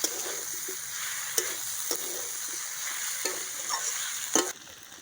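Frying vegetables being mixed with a paste of ground cumin, ginger and dried chili, giving a steady sizzle broken by intermittent scraping stirs and sharp utensil knocks against the pan.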